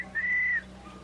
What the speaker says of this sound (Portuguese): Eu ouvi o apito.